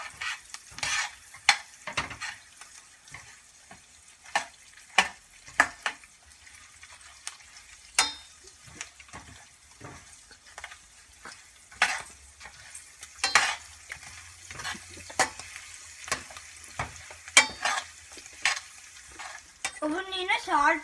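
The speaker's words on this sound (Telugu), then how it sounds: "ఇప్పుడు నేను మిక్స్ చేస్తున్నాను" Lemon rice ingredients being mixed in a pan, intermittent close spoon clinks and scrapes against metal over a faint sizzle, irregular strokes spread across the whole stretch in a quiet kitchen.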